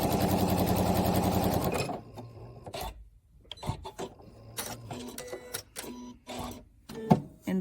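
A sewing machine runs fast and steady while stitching quilt block pieces together, then stops; afterward come scattered light clicks and handling noises of fabric and tools nearby.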